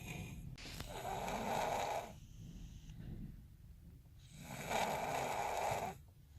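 A man asleep in a car snores in two long, rasping breaths with a quiet pause between them, close and soft, with no talking.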